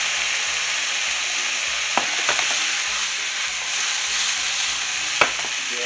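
White wine hits a hot pan while beef fajitas cook, and it sets off a loud, continuous sizzling hiss. Sharp clinks and scrapes of stirring break through now and then, and no one speaks.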